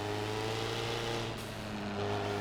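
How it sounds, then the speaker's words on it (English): A trophy truck engine in Forza Motorsport 7 drones steadily with a low, constant hum and layered harmonics, holding a near-even pitch throughout with no voices. "Does take a little bit of sort of easing into the acceleration to try and get the truck actually to move."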